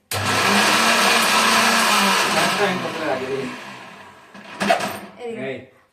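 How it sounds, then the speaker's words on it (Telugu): A mixer grinder blends onions, ginger and garlic with a loud, steady whirring roar for about four seconds before winding down into rattles and clatter, while a voice talks over it. "అల్లం వెల్లుల్లి ఇవన్నీ కూడా మిక్సీలో వేసేస్తున్నాను"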